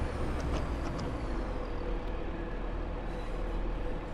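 Class 170 diesel multiple unit running between Derby and Nottingham in Train Sim World 4, a steady loud rumble and roar of the moving train with faint higher whines, continuous throughout.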